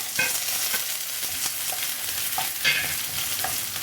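Fenugreek seeds and spices dry-roasting in a pan for arachuvitta rasam, a faint crackle with light scraping stirs and a couple of clearer scrapes.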